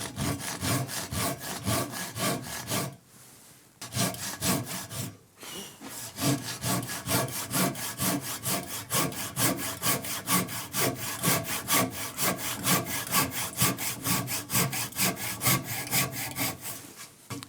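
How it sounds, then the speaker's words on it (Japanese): A Japanese hand saw with a rip-cut blade cuts along the grain of a wooden workpiece to form a tenon, giving fast, even rasping strokes heard up close, with two brief pauses before the steady rhythm resumes. "今度縦引きの刃でこれを縦を切っていきます。"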